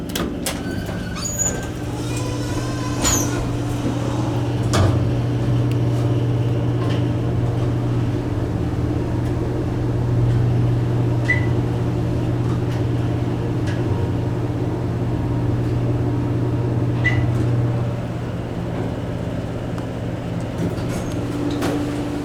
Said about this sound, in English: Hear the motor a little bit on this thing.